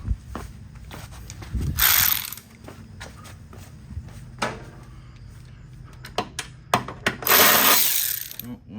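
A ratchet wrench works on bolts under a Chevrolet Caprice police-package car during a header and converter install. Sharp clicks and short metallic bursts come up close and loud, with clanks and pauses between them.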